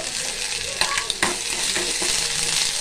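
Ginger garlic paste fries in hot oil for a prawn curry, a loud continuous sizzle up close with a few sharp spatula scrapes and stirring knocks against the pan, no talking.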